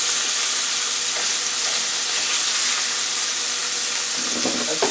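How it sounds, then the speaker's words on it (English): Shrimp sizzle in a frying pan alongside peppers and onions, a steady broadband hiss of hot oil running throughout, with a few soft clinks of stirring near the end. "And now I'm going to add the shrimp in the same frying pan."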